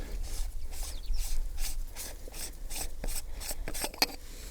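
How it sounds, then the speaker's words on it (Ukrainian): A wrench works a hex bolt loose on a hay rake with a quick run of rasping, clicking strokes, close and moderately loud, ending in one sharper click. "Відкрутити шестиграночку."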